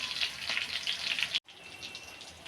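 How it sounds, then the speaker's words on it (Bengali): Chicken pakoras frying in oil over medium heat, a steady soft crackling sizzle with faint bubbling pops, briefly cut by a moment of silence before the sizzle resumes slightly quieter. "আবার উল্টিয়ে দিব, লাল লাল করে ভেজে নিব সব"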